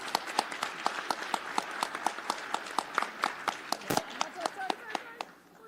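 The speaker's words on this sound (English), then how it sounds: "Thanks very much, Axel. Great job. Round of applause." A small audience at a hacker conference's junkyard session gives Axel a round of applause, a sparse, distinct run of individual claps in a steady rhythm, fairly quiet and close, tapering off at the end.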